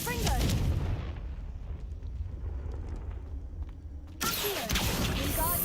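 Booming blasts from the Confringo explosive spell in Hogwarts Legacy, a heavy rumbling burst at the start with a second loud impact near the end, low thunderous energy throughout.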